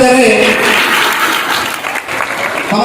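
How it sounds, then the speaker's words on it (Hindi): Loud crowd applause greeting guests at a Hindu procession gathering, a dense, continuous roar of clapping that holds steady throughout, with a faint tonal ringing early on. "तालियों के साथ अतिथियों का अभिवादन करें।"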